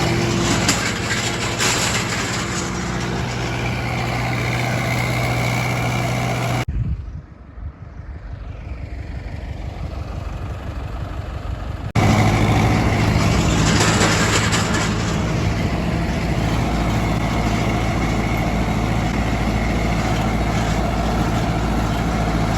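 A tractor pulls a roller over a freshly sown field. Its engine gives a steady, loud, close drone that drops to a softer rumble partway through and then returns at full strength.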